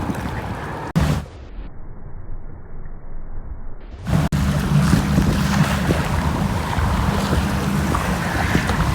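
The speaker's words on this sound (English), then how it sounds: "the waves are pretty big and it's really windy" A boat pushes through strong wind and big waves near the Florida Keys, with loud rushing water and wind roar broken by a muffled stretch and two sharp knocks.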